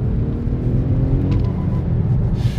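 An Infiniti M37x 4WD accelerating hard gives a steady, loud engine roar and road rumble that holds at an even level for a few seconds with no break.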